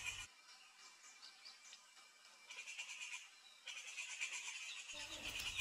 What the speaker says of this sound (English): we can also hear the distress call of a rufous streepie in the background